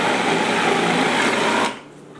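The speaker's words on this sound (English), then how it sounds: "Now we're gonna blend this till it's just all mixed in evenly." Blender whirring at high speed through crumbled tofu in a kitchen, a loud steady motor drone that cuts off near the end.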